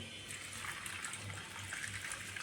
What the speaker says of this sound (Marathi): तर मी याच्यामध्ये घालते पाणी